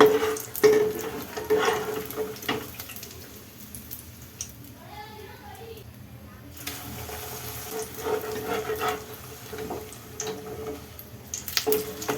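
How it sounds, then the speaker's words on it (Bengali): Paneer papad omelette fries in a pan as it is flipped and turned, a moderate sizzle with scraping and clatter, quieter in the middle, alongside some background voices. "পাশ ঘুরিয়ে ফিরিয়ে ভালো করে এইভাবে ভেজে নিতে হবে"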